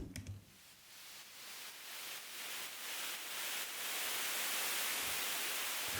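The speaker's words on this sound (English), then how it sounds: "I again created my own effect sound with using the white noise over here." Broadband hiss of white noise that swells gradually louder over several seconds, with faint rhythmic pulses, steady and alone with no voices.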